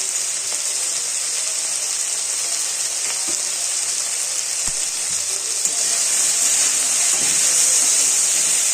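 Taro and potatoes fry with salt and turmeric for an Odia home-style dish, giving a loud, continuous sizzling hiss with a few soft knocks and clinks from the pan.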